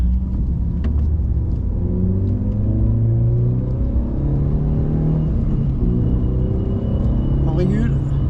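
A car engine revs and accelerates loudly in a straight line during a braking practice session, a close, rising, rumbling drone, with a person talking over it inside the vehicle.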